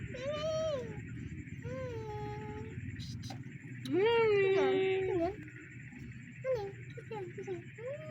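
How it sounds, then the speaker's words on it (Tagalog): A pet cat meows in several drawn-out, rising and falling calls, one long loud meow in the middle, with a few shorter chirps after, over steady low background rumble. "Ka-cute na pusa! Pusa, pusa!"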